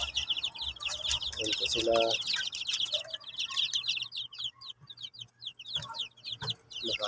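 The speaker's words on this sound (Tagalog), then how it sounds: "Ito po yung mga sisiw natin." Shamo chicken chicks chirp in quick, high, repeated peeps close by, while a voice talks briefly over them.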